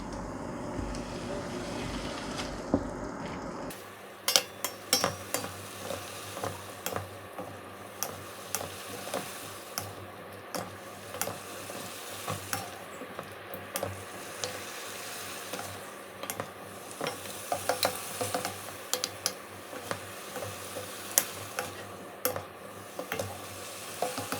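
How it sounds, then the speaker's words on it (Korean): Shrimp and asparagus with seasoning and a spoonful of water are stir-fried in a pan, a soft, quiet sizzle broken by regular light clicks and scrapes from the stirring spatula. "이렇게 살짝 볶을게요. 양념이 골고루 보일, 이렇게 배일 수 있도록 섞어주세요."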